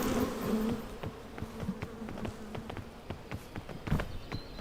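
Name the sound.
bees buzzing in the video game PEAK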